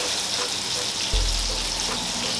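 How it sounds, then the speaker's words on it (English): Sugar cooking gently in a pan ahead of caramelizing meatballs gives a steady soft sizzle and frying hiss, with a low bubbling swell that starts partway through and carries on to the end. Nobody speaks. "Your sugar there is gently going."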